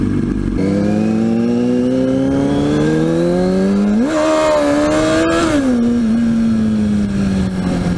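A motorcycle accelerates hard, its engine tone climbing steadily, then surges sharply higher as the rear tire spins out during a failed wheelie attempt, loud and close before settling back down.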